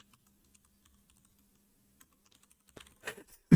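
Keys clack on a computer keyboard during a live coding session on an operating system, starting after a near-silent pause with a short, uneven burst of close typing and ending on a louder final thump.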